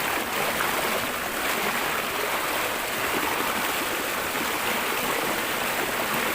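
A river in Cumba, Batangas rushes steadily, a dense, even broadband wash of flowing water with no pauses, close and fairly quiet, no talking.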